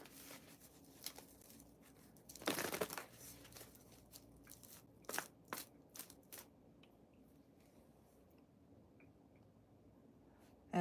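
Tarot cards being shuffled by hand indoors, soft papery riffles and slaps, a louder burst early on and a few scattered quieter flicks against a faint background.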